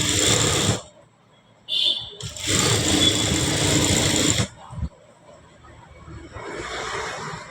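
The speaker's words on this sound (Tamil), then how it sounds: "இப்படி வச்சு ஒரு ஸ்டிச் போட்டுக்கலாம்." A sewing machine stitches a blouse belt, running in two loud, steady whirring bursts separated by short pauses, then going quiet apart from faint low noise.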